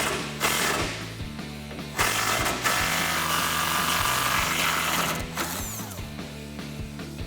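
A 12 mm socket ratchet works a bumper bolt loose on a 2005-2015 Toyota Tacoma, with a steady mechanical whir and rattle and sharp clicks at intervals throughout.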